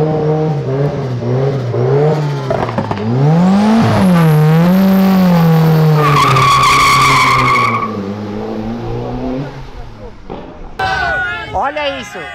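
A Lexus car revs and skids, its engine note rising and falling with squealing tires, loud and close, while people talk and shout over it.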